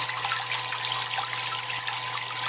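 Water rushing steadily through a homemade spinning sparge arm opened fully, a dense continuous spray and trickle with a faint steady hum beneath, close and unbroken.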